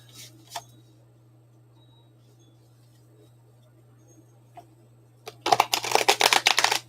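Tarot cards are shuffled in a quick riffle, a burst of rapid crisp flutters near the end, after a quiet stretch with a low steady hum and a couple of soft taps.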